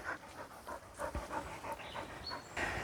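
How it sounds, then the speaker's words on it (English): Dogs pant steadily and close by on a woodland walking route, their quick breaths continuous with light splashing through puddles. "I can hear dogs in puddles."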